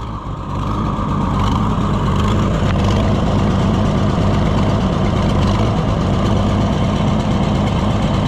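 An old junkyard Super 77 tractor engine with a pulling cam, running steadily at a loud, close, throbbing idle with no talk.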